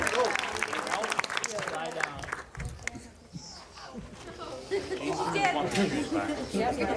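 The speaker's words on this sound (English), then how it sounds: "All right, give her a round of applause." A convention crowd at the Long Island Retro Gaming Expo cosplay contest claps and cheers for a contestant amid loud chatter and an announcer's voice, the applause mixed densely under the talk.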